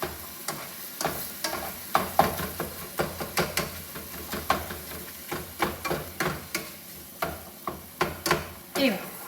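Spaghetti sauce for million dollar spaghetti is stirred and fried in a pan, giving a steady run of close scraping strokes and clinks over a soft sizzle, with no talking.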